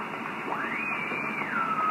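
Steady hiss and crackling static with a faint warbling tone sweeping up and down, interference on the 28 MHz shortwave band.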